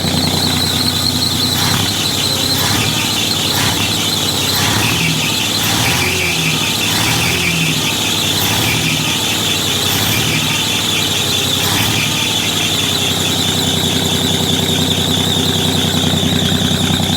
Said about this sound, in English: That terrible squeal you hear is just alternator came back to life